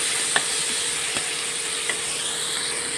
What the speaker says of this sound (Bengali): এবার এই যে চিংড়ি মাছটাকে ভেজে নিচ্ছি।